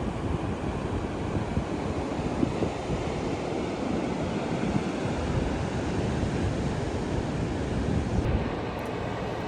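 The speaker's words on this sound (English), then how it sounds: "Waves are way too big for me." Big ocean waves breaking at a surf break make a steady, loud roar of churning surf with wind buffeting the microphone throughout.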